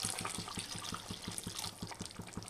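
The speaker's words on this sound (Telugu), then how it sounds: "కొంచెం పులుసుకు సరిపడా, చేపల పులుసుకు సరిపడా కొంచెం వాటర్ పోసాను" Water pours in a steady stream into a pot of fish curry, a close, continuous splashing gurgle with a faint regular ticking beneath it.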